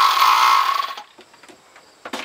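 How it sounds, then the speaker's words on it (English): Handheld air compressor in a pro cyclocross team van, running loudly with a steady motor whine for about a second, then cutting off, followed by faint clicks and handling noises. "Handheld compressor."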